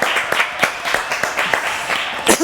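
An audience on a French talk show claps in short bursts that start and stop unevenly across a couple of seconds, close and moderately loud, with light voices mixed in.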